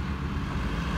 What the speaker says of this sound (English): a roller tractor and